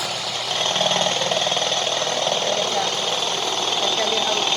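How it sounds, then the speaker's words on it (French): A stand mixer beating egg whites for chocolate beetroot muffins whirs in a steady, loud, rattling drone that picks up slightly after the first half second and then holds constant. "Donc je fais avec le robot. Au début, je mets au 1 en fait et j'augmente la vitesse petit à petit."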